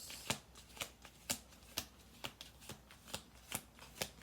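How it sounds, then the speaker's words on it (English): A deck of cards being shuffled, a crisp riffle burst repeating about nine times at a steady half-second rhythm, close and quiet with no talking. "We'll do one more shuffle after this."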